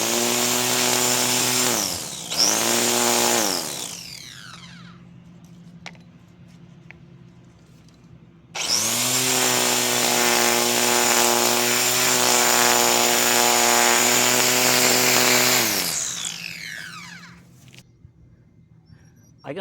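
A Black+Decker 3-in-1 corded compact mower used as an edger whines loudly at high speed on a lawn, in two long runs that rise and fall in pitch as it bites into the grass edge, with a short pause between.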